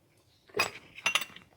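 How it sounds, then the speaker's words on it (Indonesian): A spoon scrapes milkfish flesh on a dish, two short scratchy bursts with a faint clink, close by and fairly quiet. "bisa dikerok pakai sendok gini"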